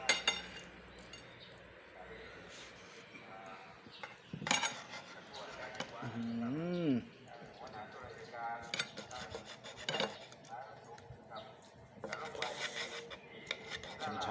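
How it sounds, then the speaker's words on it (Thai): Knife slicing through a cooked medium beef steak on a plate, giving repeated close rasping and scraping strokes with occasional utensil clinks, while people talk intermittently in the background. "เดี๋ยวเราจะเริ่มหั่นแล้วนะ"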